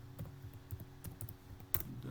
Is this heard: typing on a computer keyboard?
yes